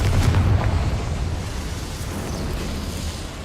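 A Confringo fire spell goes off in Hogwarts Legacy with a loud, rumbling blast that booms at once and then rolls on as a sustained low roar. No voices are heard.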